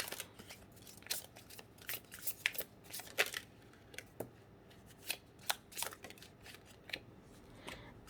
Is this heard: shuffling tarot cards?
yes